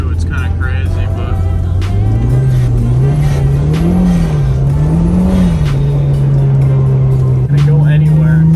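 Audi TT driving in third gear at about 40 on a snowy road, the engine humming loudly and steadily with a slight rising and falling pitch, under road noise and a few clicks.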